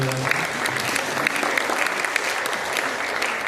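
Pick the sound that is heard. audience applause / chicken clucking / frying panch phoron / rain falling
audience applause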